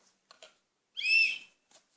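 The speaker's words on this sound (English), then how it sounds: "It's also a whistle." A small whistle built into an E.S.S.O. survival stick, blown once in a short, shrill, close tone lasting about half a second, with faint handling clicks around it.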